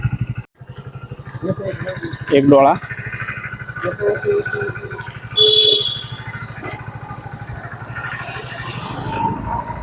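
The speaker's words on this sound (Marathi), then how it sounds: "आता स्प्लेंडरवर चाललो मी सध्या" A Hero Splendor motorcycle being ridden, its engine giving a steady low putter throughout, with someone talking over it and a short horn-like tone partway through.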